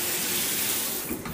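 Hot water gushing steadily from a hotel bathroom tap into the basin, a continuous close hiss of running water with no talking.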